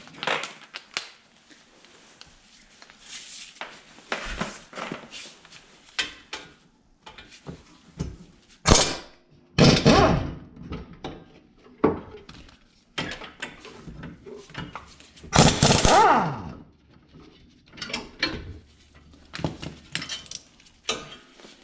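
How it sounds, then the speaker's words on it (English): Caliper bracket bolts being removed from a 2011-2019 Ford Fiesta's front brake, with sharp metallic clinks, ratchet bursts and clunks of tools and parts in irregular, close bursts between quiet gaps. "Then now we take the actual caliper bracket bolt off."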